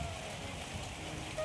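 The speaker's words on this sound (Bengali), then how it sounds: "বৃষ্টি চলে আসতেছে" Rain beginning to fall outdoors during a storm, a soft, steady patter and hiss of drops on surfaces that stays continuous and fairly faint.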